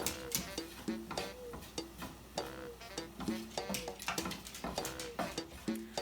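A utensil stirs flour into a seasoned sauce in a pan, making quick, quiet scraping clicks in a steady repeating rhythm, with no talking.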